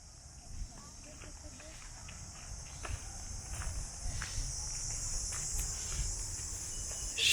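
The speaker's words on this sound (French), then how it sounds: "Je sais pas si vous allez entendre ce calme incroyable avec les cigales." A steady high-pitched drone of cicadas hangs over a quiet garden in Vietnam, with faint soft rustles and small knocks beneath it.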